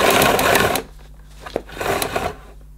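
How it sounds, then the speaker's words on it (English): The power cord of an Electrolux Ergobox 2000 watt bagless vacuum cleaner rewinds with a loud, close, rattling whir that lasts under a second and stops abruptly, followed by a few faint clicks and rustles. "I'll give it a slight tug and hopefully it will rewind into the cleaner."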